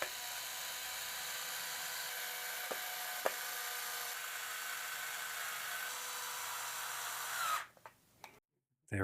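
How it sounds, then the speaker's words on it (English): A power drill runs almost continuously, driving screws to mount a Tapo outdoor security camera outdoors, with steady whining broken by a couple of brief clicks, then stopping abruptly near the end. "and secure the camera."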